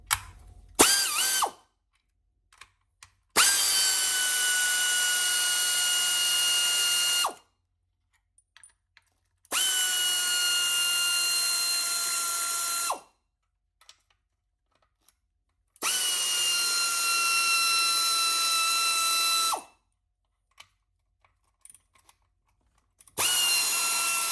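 A pneumatic tool spins the fuel rail bolts off an LSA supercharger, loud whirring bursts lasting several seconds each, four times, with short ratchet clicks between them and silence in the gaps.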